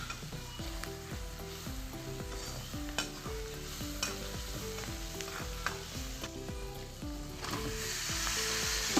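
Turmeric being stirred into mutton paya soup base in a pan, a soft steady sizzle under rhythmic scraping strokes of a spoon, growing a little louder toward the end, no voices.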